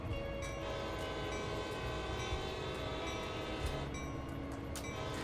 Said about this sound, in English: One more time, whistle.